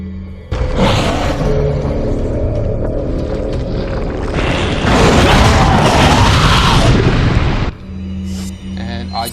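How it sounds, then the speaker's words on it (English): An incendiary grenade goes off in a video game: a sudden loud burst that swells into a long roaring, crackling blaze for several seconds, then cuts off abruptly into quieter background. "I'm going to go with an incendiary grenade"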